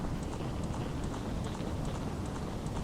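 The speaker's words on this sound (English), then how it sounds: "that's him riding a horse" A horse galloping in Legend of Zelda: Ocarina of Time, quick repeated hoofbeats in a steady rhythm over a constant low background wash, faint and with no voices.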